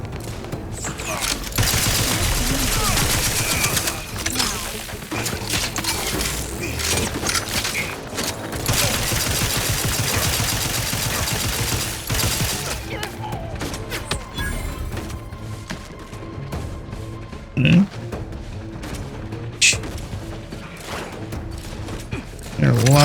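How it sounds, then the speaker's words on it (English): Heavy gunfire in The Outer Worlds 2 on Very Hard difficulty, a loud sustained fusillade of rapid shots and mechanical clatter that fades into scattered bursts and impacts, with voices talking over it. "They're lobbing shots like crazy."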